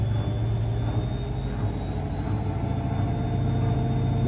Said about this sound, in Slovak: Otáčky nastavené na 1000 otáčok za minútu